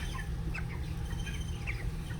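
Broiler chickens cluck in short bursts over a steady low rumble of background noise, close by and moderately loud.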